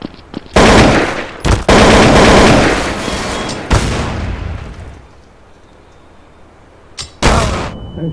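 A grenade blast mixes with bursts of heavy gunfire in Counter-Strike: Source, with loud sustained volleys and a booming hit, a quieter lull, then another sharp burst, all close and intense.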